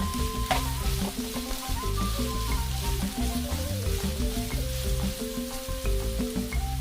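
Onions and scallions frying with potatoes in a pan, a steady close sizzle and crackle with occasional spatula stirs and pan scrapes, no voices over it.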